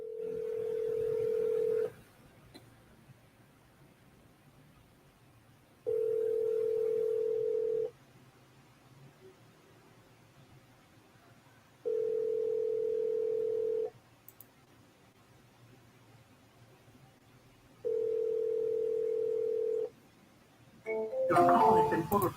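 Outgoing telephone call ringback tone, a steady two-second buzzing tone repeating four times at even intervals against quiet line hiss, followed by a burst of other sound at the very end.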